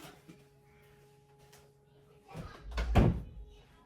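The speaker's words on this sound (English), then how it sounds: "I'm going to have to close my door" Indoor door pulled shut, a dull thud with some rattling lasting about a second after a quiet stretch, fairly close and moderately loud.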